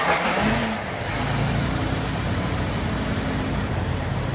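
A Jeep WJ engine runs just after starting, a steady mid-pitched idle drone with a brief rev at the outset, close and fairly loud with broadband hiss over it.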